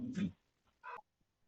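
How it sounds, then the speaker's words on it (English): Two dogs at home give a short yelping bark and a whimpering cry, close and fairly loud, separated by a brief pause. "It's just my dogs reacting to my voice."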